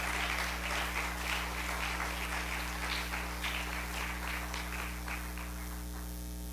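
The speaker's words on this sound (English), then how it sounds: "Let's give all our mothers a big round of applause." A church congregation applauds mothers with steady, broad clapping over a constant low electrical hum, slowly easing off toward the end.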